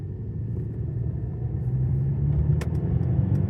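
A car driving at about 45 miles per hour, a steady low engine and road rumble heard from inside the cabin, with a brief click or knock near the end.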